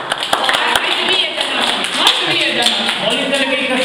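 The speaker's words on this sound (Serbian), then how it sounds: "Bravo, hajde jedan aplauz." A group of young children aged three to six, at a mekteb gathering with a visiting poet, clap together in quick, uneven applause, with voices chattering over the clapping throughout.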